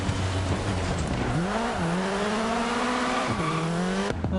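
Rally car racing in Dirt Rally 2: a loud engine revs and shifts in rising and falling sweeps, with gravel and tire noise under a steady roar and a sharp drop near the end.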